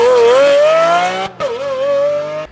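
Stock Lamborghini V12 supercar exhaust, a loud close high-pitched wail climbing through the revs, cutting off briefly at a shift before rising again in a second sustained scream.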